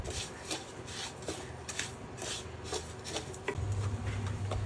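Sugar being stirred steadily in a pan as it melts for a peanut brittle, a soft continuous scraping and rubbing with light repeated strokes, close and moderately quiet, no talking.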